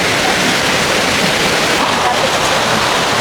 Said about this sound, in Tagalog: Yan po ang status ng kanilang ilog ngayon.